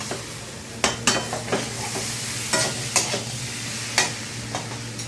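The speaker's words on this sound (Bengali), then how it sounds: "এবার আস্তে করে আলুগুলো দিয়ে দেবো।" Potatoes go into spiced rice frying in oil for Bengali muri ghonto with katla fish, giving a steady sizzle broken by sharp scraping stirs of a spatula against the pan, with no talking.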